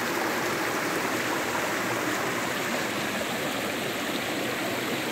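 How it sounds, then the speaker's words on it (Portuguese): Water streams steadily down a waterfall in a natural setting, a constant close rushing and splashing that fills the whole stretch with no voices. "Subindo a cachoeira. Olha ali, aguinha. Aguinha descendo."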